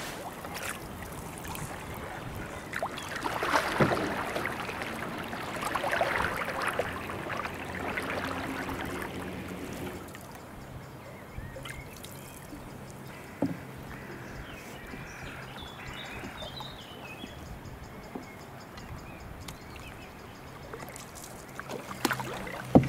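A canoe is paddled upstream on the River Severn through woodland. Soft water swishes and splashes dominate the first half, then quieter flowing water takes over, with faint birdsong and occasional knocks against the hull.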